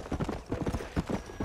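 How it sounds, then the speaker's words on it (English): Horse hooves clip-clop in steady walking rhythm in the Red Dead Redemption western video game, close and moderately loud, with no talk over them. "Hitch up the horse."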